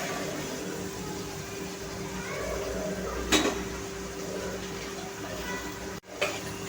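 Mixed vegetables frying in hot oil in a pan for matar pulao, a steady close sizzle with a low hum beneath and a couple of brief utensil clinks against the pan.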